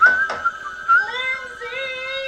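A person whistles a tune from the film High Heels & Butcher Knives, a short, clear melodic phrase with a few bright sliding notes, close and moderately loud, heard alone.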